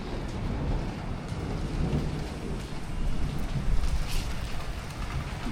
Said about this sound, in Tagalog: ulan na